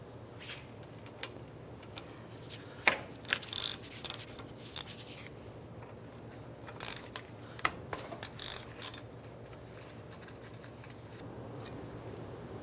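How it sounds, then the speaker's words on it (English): Scattered ratchet clicks and metallic clatter as a 13mm socket ratchet loosens the brake caliper slider pin bolts on a 2003-2012 Chevy Colorado, with irregular short bursts and quieter pauses, fairly faint with no talking. "we're going to loosen and remove this slider pin bolt right here and this one up top"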